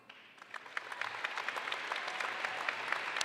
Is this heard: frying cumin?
no